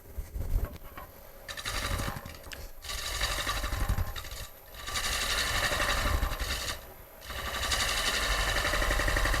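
A wood lathe gouge makes a roughing cut across a spinning bowl, from rim toward the middle, giving a steady loud buzzing chatter in long bursts broken by short pauses.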